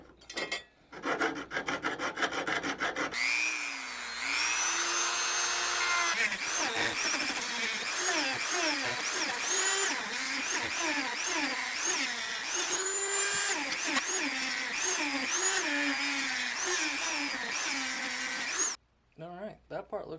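A small power tool with a wheel attachment grinds and smooths a knife blade into a rounder shape, a continuous high whirring rasp with wavering pitch as it works the edge, stopping briefly near the end.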